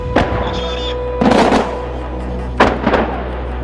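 Three loud, sharp artillery blasts from large guns boom at irregular intervals, each with a short rolling echo, over a steady low background rumble.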